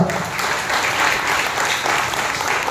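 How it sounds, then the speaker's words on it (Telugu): Church congregation clapping loudly together at a Sunday service, a dense continuous burst of applause throughout. "ప్రభువును మనం మహిమపరుస్తాం చప్పట్ల ద్వారా బిగ్గరగా"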